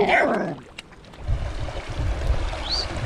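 A dog chasing a monitor lizard gives one short, high yelping bark at the start, then only a steady outdoor rumble of wind and moving water follows.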